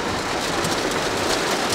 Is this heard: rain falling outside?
yes